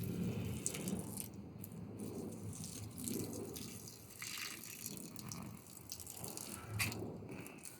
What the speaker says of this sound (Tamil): கொதிக்கிற தண்ணி ஊற்று